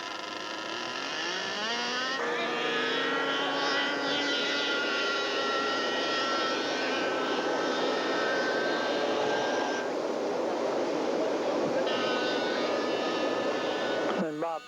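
An F-16 jet engine runs on the ground at an air race, a loud sustained whine with shifting tonal pitch as it is adjusted, under a steady roar.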